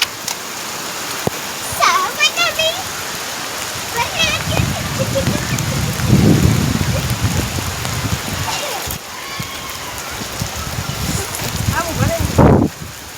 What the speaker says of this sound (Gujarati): એટલો બધો વરસાદ આવે છે.